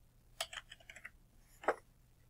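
Typing on a computer keyboard during web page editing: a short burst of several quick, close key clicks followed by a single louder keystroke a moment later.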